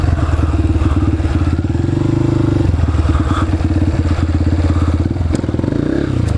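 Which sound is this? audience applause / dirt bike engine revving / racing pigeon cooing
dirt bike engine revving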